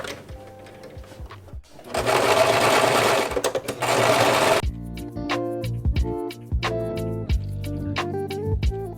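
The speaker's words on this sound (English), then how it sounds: "So I'm just gonna stitch those up right now." A sewing machine runs close and loud while stitching the side seams of a thrifted shirt, with a short continuous burst of stitching followed by a stop-start stretch of rapid clicks and pauses.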